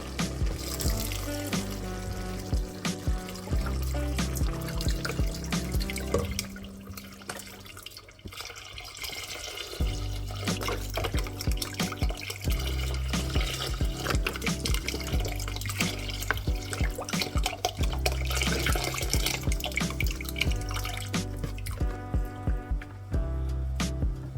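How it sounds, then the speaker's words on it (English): Water and beef broth poured into a soup pot of cooked onions and garlic, a continuous splashing trickle with a brief pause midway, close and fairly loud. "Now we'll add the 1 cup of water,"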